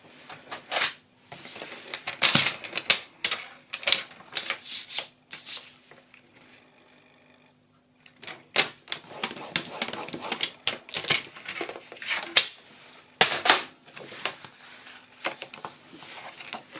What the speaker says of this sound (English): I'm going to score it at 4 1/4.